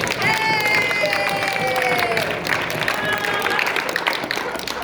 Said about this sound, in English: I'd like to give another round of applause to Adrienne